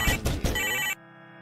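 A phone rings loudly in the Lacey's Wardrobe horror game, a dense electronic trill that lasts about a second and then cuts off abruptly, leaving only a quiet hum.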